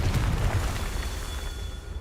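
A Confringo blasting spell exploding in the Hogwarts Legacy video game, a loud low boom at the start that rolls and fades away over two seconds.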